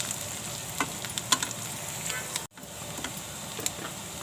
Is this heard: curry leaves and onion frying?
yes